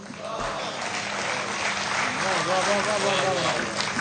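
Audience applauding at a Hindi poetry recitation, a steady wash of clapping from a sizeable crowd that stays fairly even throughout, with a voice speaking over it.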